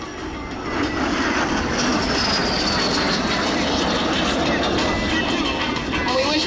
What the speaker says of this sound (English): Chris, in the blue jet above, taking off